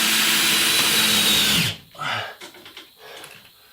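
A power screwdriver drives screws into drywall, one loud continuous whirring run that spins down abruptly partway through, followed by softer handling clatter and brief bumps.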